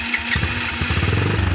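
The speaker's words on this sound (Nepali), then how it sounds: "बाहुबली बाइकको स्टार्टै बन्द भयो" A Bahubali motorcycle engine on a cold mountain road sputters loudly and unevenly up close, its rough firing pulses faltering as it struggles and cuts out.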